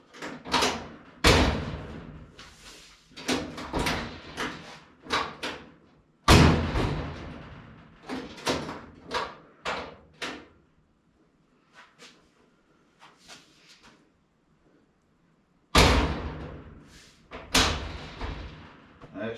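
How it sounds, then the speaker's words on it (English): A car door being shut repeatedly during bodywork on the driver's side while fitting the outer rocker panel, producing a series of sharp, loud slams and clunks with short quiet gaps between them. "Door does shut better though."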